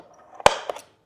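A center punch taps into wood through a VEVOR cabinet hardware jig, giving one sharp close knock followed by a couple of lighter clicks, in a quiet room.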